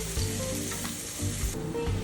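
Garlic sizzling in a pan of oil for fried rice, a steady close hiss running throughout with a few low knocks from the pan.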